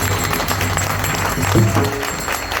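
An audience gives enthusiastic applause after a Shivaji Maharaj powada performance: a continuous wash of many hands clapping that holds steady for the whole stretch.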